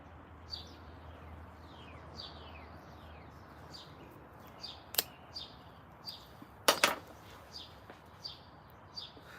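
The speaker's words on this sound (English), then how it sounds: "Listening to all the planes and the birds." Birds chirp outdoors in short scattered calls, faint and some distance off, over a quiet background hiss with a couple of sharp clinking sounds nearby.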